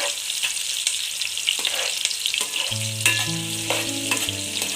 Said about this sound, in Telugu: దీన్ని అయితే మంచిగా వేయించుతామండి ఆయిల్లో కొంచెం ఇది కలర్ వచ్చేదాకా